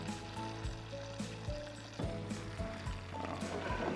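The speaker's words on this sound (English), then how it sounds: "Oh, hear that sizzle. Beautiful." Quiet sizzling of meat and onions browning in a pan at a campsite, a soft crackling hiss with occasional louder pops and a faint low hum beneath.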